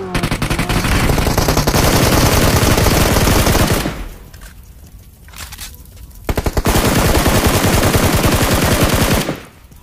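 Rapid automatic gunfire in PUBG Mobile rattles loudly and almost without pause, drops briefly to a quieter lull, then resumes as a steady stream of shots.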